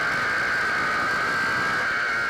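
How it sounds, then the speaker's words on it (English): Race car engine screaming at high revs during a stock car race on track, a steady loud high-pitched whine holding constant through the whole stretch with no pauses. "Listen to the motor screaming"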